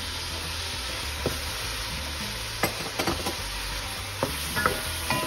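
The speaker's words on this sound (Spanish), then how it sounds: "Estamos sofriendo unos 2 minutitos." Chopped onion and green pepper sauté in a pan as a sofrito, giving a quiet, continuous sizzle with several sharp scrapes and taps of a stirring utensil against the pan, with no voices.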